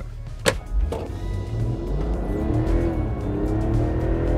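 A 2024 Ineos Grenadier accelerates hard on the road, its engine a steady, rising drone heard from inside the cabin, with a couple of sharp knocks near the start and no talking.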